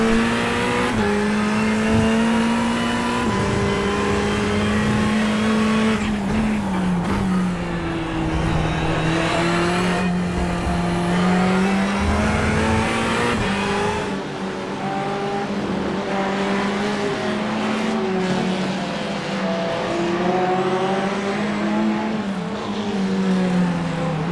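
Race car engine in the iRacing sim during the Le Mans 3-hour race, loud and continuous, revving up and down through gear changes with a steady high whine, no talk.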